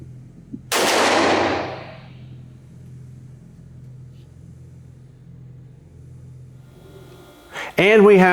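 A Sig Sauer P320 Spectre Comp compensated pistol fires PMC ammunition at a shooting range: one loud, sharp report with a decaying echo, then a quiet stretch before a voice briefly starts at the end.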